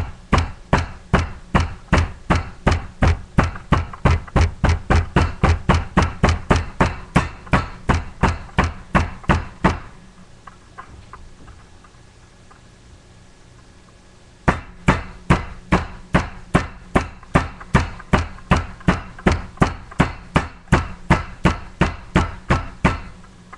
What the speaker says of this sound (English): to tenderize the steak, you're going to get a mallet